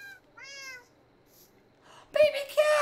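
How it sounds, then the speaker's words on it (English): A kitten gives a couple of short, high meows close by, followed by excited voices. "Baby cat!"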